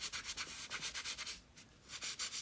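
Rhythmic rubbing of a cloth or brush across a canvas to lift away wet oil paint, a series of soft, close, hissing strokes that pause briefly midway, with no talking.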